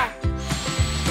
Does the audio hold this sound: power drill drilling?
yes